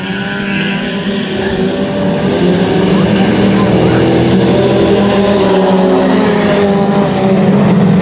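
Race cars, including a small four-cylinder car drafting in the pack, roar past on the Electric City Speedway oval, a continuous loud engine drone filling the track under an announcer's running commentary.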